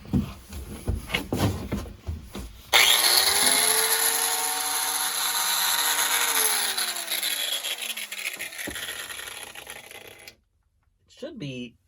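A power saw fitted with new blades cuts steadily through a stuck nut during boat work, a loud sustained grinding whine that slowly drops in pitch, preceded by scraping and followed by a sudden stop and brief clatter.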